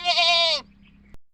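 A goat near a roadside patch of bushes gives one loud, close, wavering bleat lasting about half a second, followed by quiet and a single sharp knock.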